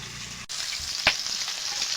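Pangas fish pieces frying in hot oil, a loud steady sizzle with a brief break and one sharp crackle or spatter near the middle, close and alone.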